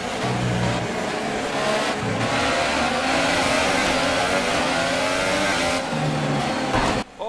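A Formula One race car roars continuously at full throttle in F1 2018, loud and close, its engine note climbing through gear changes with brief dips between shifts and no talk over it.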